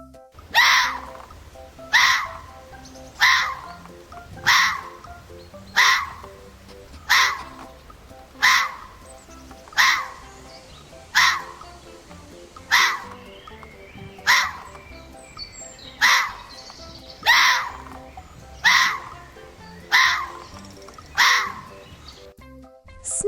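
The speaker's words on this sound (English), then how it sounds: "Fox." A fox calls on its own in a steady series of about fifteen harsh, screechy cries, each spaced roughly a second and a half apart, clear and fairly close.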